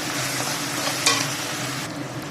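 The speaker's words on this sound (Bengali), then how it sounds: "মশলাটাকে নেড়ে চেড়ে নিয়েছি" Masala with cumin powder and salt sizzles in a pan as it is stirred and fried. A steady frying hiss runs through, with one sharp scrape or spatter partway through.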